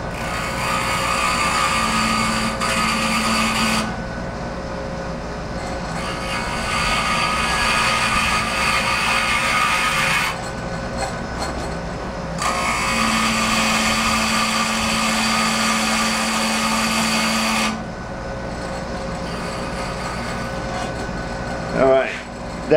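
A grinding wheel being dressed gives a steady, loud whirring hum broken by two long bursts of harsher broadband grinding. The noise drops back between the passes and at the end.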